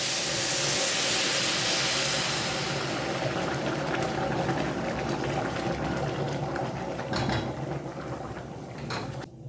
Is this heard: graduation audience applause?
no